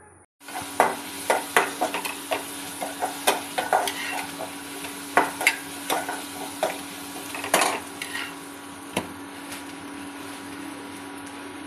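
A spoon scrapes and stirs rice flour dough in a hot pan, giving a steady run of rhythmic knocks and scrapes over a soft sizzle, close and fairly quiet, with no talking.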